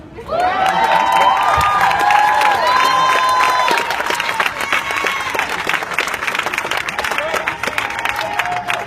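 Steady applause mixed with cheering and shouting from a crowd at a Black Lives Matter protest rally outside Springfield City Hall, continuous and fairly loud, with voices calling out over the clapping.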